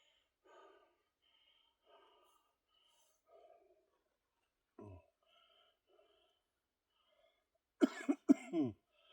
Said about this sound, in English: Fair warning, I do cough a lot.